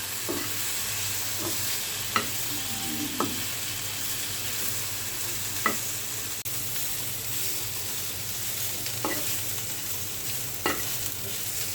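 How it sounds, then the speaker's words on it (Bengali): Chicken pieces fry in a pan with spices and a spoonful of soy sauce, a continuous close sizzle broken by occasional sharp clicks and scrapes as the meat is stirred. "সমস্ত মশলা দিয়ে আমি মাংসটা বেজে নিচ্ছি"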